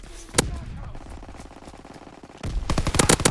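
Rapid bursts of machine gun fire in a WWII shooter game, a short burst near the start and a loud sustained rattle toward the end, with distant gunfire in between.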